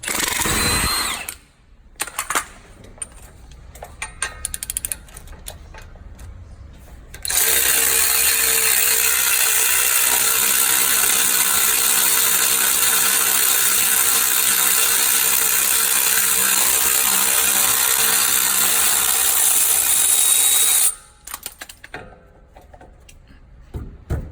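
A ratchet wrench works on the 21 mm brake caliper bolts of a Ram 1500, with a few short clicking bursts, then a long, loud, steady mechanical whirring run that stops abruptly, followed by more brief rattles.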